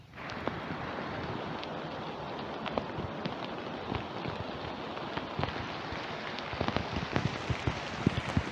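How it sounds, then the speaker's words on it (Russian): Steady rain falls on an autumn forest bushcraft camp, a dense continuous patter with scattered sharper drops striking nearby surfaces, close and fairly loud throughout with no voices. "И сегодня льет дождь."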